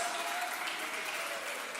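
A church congregation applauding to glorify Jesus during a Wednesday night service: steady, even clapping from a large crowd, heard a little distant and soft, with a faint sustained tone underneath.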